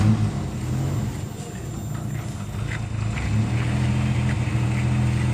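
A stock 1.0-litre engine in a 1989 Daihatsu Zebra hatchback idles smoothly and quietly, a steady low hum running evenly throughout with no talk over it.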